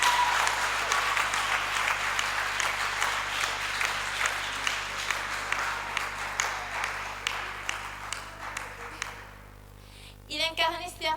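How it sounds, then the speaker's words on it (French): Audience applause at a women's eloquence contest in Lubumbashi: dense, sustained clapping from a hall crowd that slowly thins and fades, ending with a brief spoken voice. "Applaudissez s'il vous plaît."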